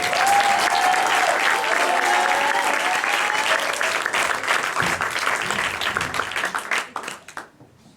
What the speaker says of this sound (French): Un maximum d'applaudissements pour le feu.